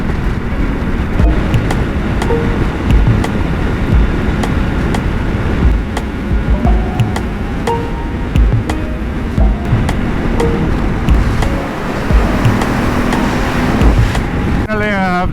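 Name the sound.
Ducati Multistrada 950 motorcycle riding with screen winglets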